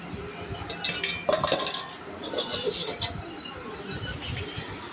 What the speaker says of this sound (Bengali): এখন আমি ম্যারিনেট করে রাখা মাংসটা দিয়ে দিচ্ছি। একটু নাড়িয়ে চাড়িয়ে আমি ঢাকনা দিয়ে দেবো।